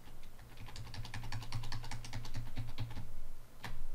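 Rapid computer keyboard keypresses while working in Microsoft Excel, a steady run of close, crisp clicks for several seconds ending in one sharper tap, with no voices.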